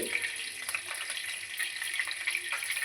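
Steady splashing of cold running water pouring over boiled egg noodles in a strainer, a continuous hiss with small bubbling bursts, close by and alone.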